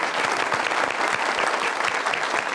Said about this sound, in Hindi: माशाल्लाह वजाहत भाई के लिए जोरदार तालियां